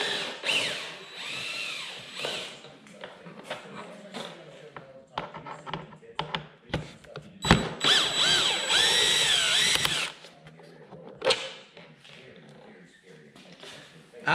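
A power drill backs out two Torx screws holding a car's gauge cluster, in several short bursts of whirring with clicks and handling noises, while a person talks through much of it.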